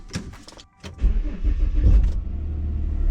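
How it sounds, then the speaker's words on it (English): A Volvo XC90 on its first test drive after new sway bar bushings, with a few close clunks and rattles at first, then a steady low engine and road rumble from inside the cabin. "First test drive after replacing the Sway Bar bushings."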